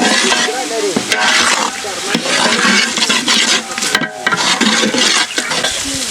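Ginger garlic paste fries loudly in a pan for a Palakkad Rowther biryani, a steady close sizzle with scraping stirs and a couple of brief pauses as the spoon moves.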